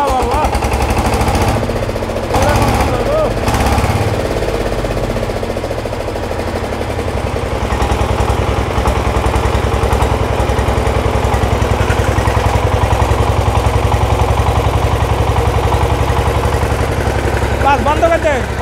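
A second-hand Sifang 20 hp diesel power tiller engine runs steadily close by, a loud, fast, rattling chug that keeps going for the whole stretch without stopping.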